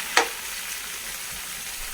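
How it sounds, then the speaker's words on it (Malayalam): Elephant yam chips bubble in hot oil while being stirred to drive off moisture, a single sharp utensil scrape followed by a close, even frying hiss. "നന്നായി ഇളക്കി കൊടുക്കാം ഒന്ന് വെള്ളം വറ്റി മുരിഞ്ഞു വരട്ടെ"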